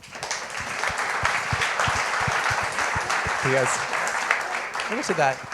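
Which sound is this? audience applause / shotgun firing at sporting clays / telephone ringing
audience applause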